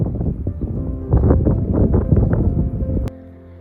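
Wind gusting across a lakeside camp in the Kolsai Lakes area, buffeting the microphone with a loud, rough rumble for about three seconds before it suddenly drops to a quieter hush.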